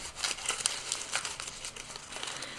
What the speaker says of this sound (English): Now I have to uncrumple the papers.